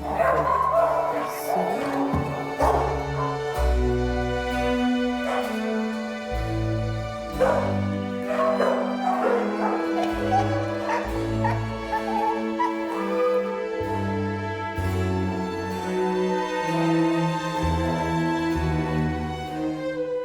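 Dogs in rescue centre kennels bark, yip and whimper in scattered bursts, mixed with music playing throughout.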